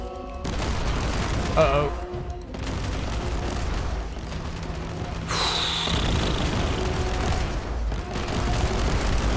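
A tank attacks in Warhammer 40k Inquisitor Martyr with dense, continuous heavy gunfire and booming impacts under a layer of mechanical battle noise. A voice briefly reacts over the din.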